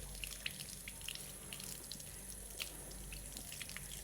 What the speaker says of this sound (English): we're going to turn the sink on